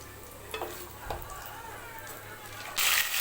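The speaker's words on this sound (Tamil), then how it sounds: "இப்போ கடுகு உளுந்து சீரகம் வெந்தயம் இதெல்லாம் பொரிய போட்டிருக்கேன்" Mustard seeds, urad dal, cumin and fenugreek splutter in hot sesame oil, a soft crackling sizzle with a few sharper pops nearby, swelling into a loud hiss at the end.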